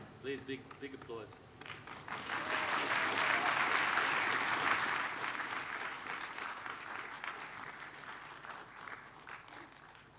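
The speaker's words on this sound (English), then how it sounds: "Please, big applause." Live audience applause at a 2017 performance event in Australia: a broad wash of clapping swells after a brief spoken introduction, peaks loudly, then tapers off gradually while still sustained.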